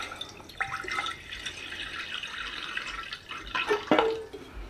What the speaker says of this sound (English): I'm just going to fill this with, again, an inch of water.